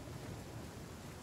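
Rain in The Flame in the Flood video game, a dense steady hiss of falling rain with a low rumbling undertone, constant and moderately loud with no talk.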